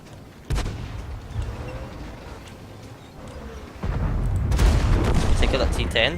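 Tank cannon shots in World of Tanks, a sharp near blast followed later by a heavy booming report with a long rumbling tail, loud over engine and battle ambience.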